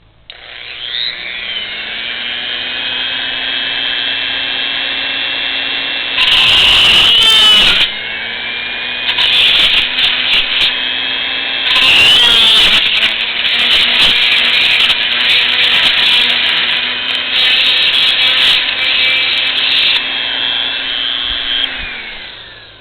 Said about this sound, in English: I think I should drill other holes as well.